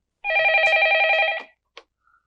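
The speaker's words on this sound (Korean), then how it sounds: "전화 받아" An old telephone bell rings in one steady, buzzing burst lasting over a second, then stops abruptly, followed by a brief click as if the receiver is lifted; close and otherwise quiet.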